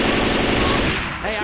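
Rapid automatic gunfire from the video game Left 4 Dead 2, a dense, loud burst of shots that runs almost the whole moment before tapering off, with no pause between rounds.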